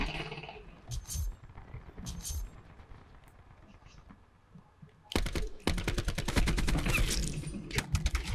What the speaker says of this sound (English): He's using a light machine gun.